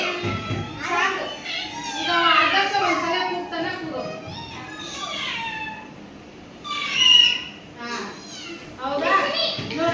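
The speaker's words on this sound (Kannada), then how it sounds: "ಬೆಕ್ಕು ನೋಡ್ರಲ್ಲ ಎಲ್ಲರೂ ಅದು ಸ್ಪೆಷಲ್ ಆಗಿ ಕೂಗುತ್ತೆ ನೋಡ್ರಿ" A cat meows several times, rising and falling calls mixed in among children chattering and playing close by, the cries standing out briefly over the lively voices.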